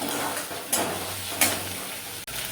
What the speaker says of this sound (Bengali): 1 চামচ আদা বাটা আর দেব 1 চামচ কাশ্মীরি লঙ্কার গুঁড়ো দিয়ে এটা আমি খুব ভালো করে আগে ভেজে নেব